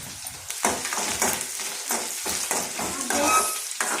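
Idli upma fries in a pan with a lively sizzle, broken by repeated spoon strokes and scrapes in an irregular rhythm, close up and with no one speaking.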